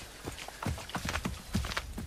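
Horse hooves clip-clop in a rapid, even rhythm in the Assassin's Creed 3 video game, a moderately loud trotting gait with no speech.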